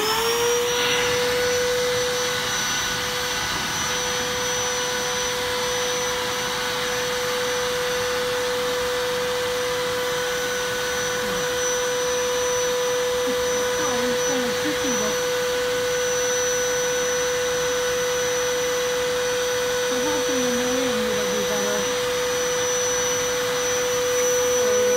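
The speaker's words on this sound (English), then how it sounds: "I have to use my shop vac and it's kind of noisy" A shop vac runs continuously for the whole stretch, a steady, loud whine with an even motor drone that never changes pace, with no voices over it.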